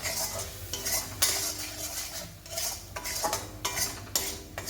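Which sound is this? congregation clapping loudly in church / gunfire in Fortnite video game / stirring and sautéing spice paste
stirring and sautéing spice paste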